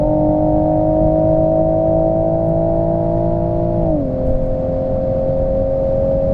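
A 387-horsepower 2021 Toyota GR Supra cruising at high speed gives a steady, loud engine drone from inside the cabin, its pitch dipping slightly partway through before holding level again.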